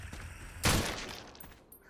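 A single firearm shot in a VR co-op zombie survival game, one sharp loud blast followed by a decaying tail, with quiet background before and after.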